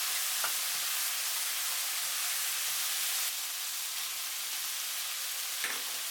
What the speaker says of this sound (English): Add the vegetables, 1 tablespoon of light soy sauce. Stir for 20 seconds.